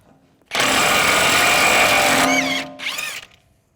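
An impact wrench fitted with a 36mm socket loosens the front hub nut on a BMW X3, a loud buzzing rattle lasting about two seconds, followed by a falling whine and one short final burst.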